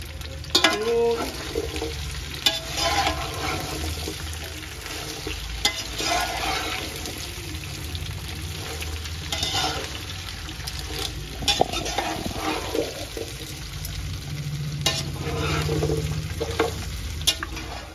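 Jackfruit, papaya, beet and carrot frying in a pan, a steady close sizzle with repeated scraping and clinking of a spoon stirring at irregular intervals, continuous and without talk.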